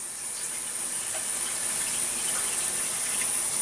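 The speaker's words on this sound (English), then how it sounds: "I'm going to add a little bit more water to that, because I want some liquid in there." Water pours steadily from a tap into a pot of beef picadillo, a thin, continuous trickling hiss throughout, with no talk.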